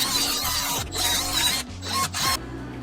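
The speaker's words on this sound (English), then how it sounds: "I'm going to bust out our little homemade sander dealie here and get up in there" A homemade sander grinds coating and paint off free steel stock for a 1/6-scale Axial SCX6 roll cage. The sanding is loud and close, with a humming motor tone, and comes in short bursts separated by brief pauses.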